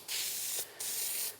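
Spray adhesive hissing from an aerosol can onto headliner fabric, in two steady bursts separated by a short pause, close and clear.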